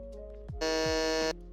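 A quiz show contestant's electronic buzzer gives one loud, bright, sustained tone lasting about three quarters of a second over low background hum.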